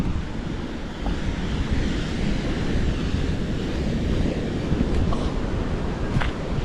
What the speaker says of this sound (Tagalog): Silipin natin ang dagat.